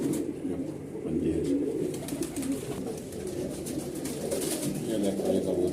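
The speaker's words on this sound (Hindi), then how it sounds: "ये देखो ये कबूतर, तो बहुत कबूतर हैं" Many Malwai, Punjabi and Madrasi pigeons coo together in a steady, overlapping murmur of low, throaty calls that runs throughout without a break.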